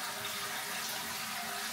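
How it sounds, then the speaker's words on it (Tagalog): A toilet flushing in a washroom in Switzerland, a steady loud rushing wash of water running throughout, close by with no talk. "Ay, flush ka agad."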